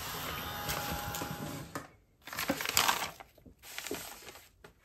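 A drying tool blows steadily across tea-dyed paper ruffles in a close, rushing whir. It cuts out around the two-second mark, then returns in uneven bursts with short pauses between them.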